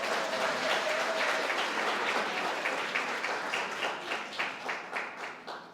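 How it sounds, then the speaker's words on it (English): Sustained applause from an audience at a benefit gala, steady and full-bodied throughout, thinning slightly toward the end with no voices over it. "give a round of applause, please"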